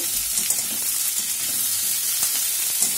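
Onions stirred and fried in a pan over medium-high heat for chili paneer, giving a steady close sizzle with scraping stir sounds throughout, no talking.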